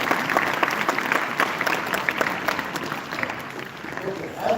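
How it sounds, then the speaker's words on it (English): Applause at a school Constitution Day celebration, a crowd clapping steadily and loudly for several seconds and easing slightly toward the end. "a big round of applause for Balswood sir for giving such an energy."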